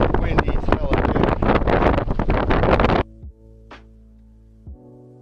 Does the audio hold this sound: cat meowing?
no